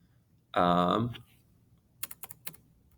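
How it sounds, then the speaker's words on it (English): Computer keyboard keys tapped to enter a word into an online dictionary, a short quick burst of about five clicks, close and fairly crisp, following a brief spoken voice. "So here you can see that I typed in tierra."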